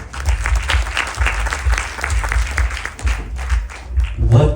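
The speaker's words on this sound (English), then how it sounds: "Clap for them." Congregation at a Ganesh Chaturthi Utsav gathering applauding temple members and youth, loud close clapping with heavy low thumps, sustained throughout with some crowd noise mixed in.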